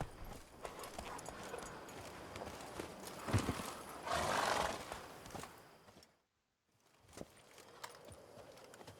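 Hooves of Roach, Geralt's horse in The Witcher 3: Blood and Wine, clip-clop at a gallop under game ambience, a whinny-like swell midway before a brief silent gap and resumed hoofbeats.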